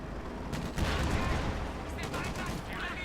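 Gunfire rattles in the Company of Heroes 2 strategy game as a volley of rifle and machine-gun shots crackles over a dense battlefield din, moderately loud and continuous, with a voice faintly underneath.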